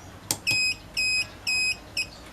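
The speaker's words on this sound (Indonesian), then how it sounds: "dengan bip yang agak panjang tadi itu artinya data sudah tersimpan" A generator heater loop timer gives a short click-beep followed by four sustained electronic beeps in an even rhythm, each about a quarter second long, the last one shorter, close and clear with no talk.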